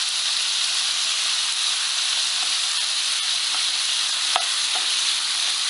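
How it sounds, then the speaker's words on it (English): Ground beef browns in a pan for a hamburger, cabbage and vegetable soup, a constant close hissing sizzle with a few faint scrapes, no voices. "We're going to let that brown."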